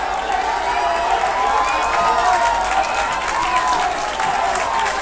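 Schoolboy rugby crowd at a match cheering and clapping in a continuous roar, dense and steady for the whole stretch, with a commentator's voice over it.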